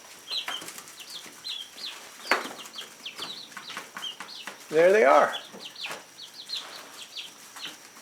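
Baby chicks in a newly finished predator-proof coop cheep in quick high bursts while wings flutter briefly, with one louder squawking burst in the middle; a person speaks a few words.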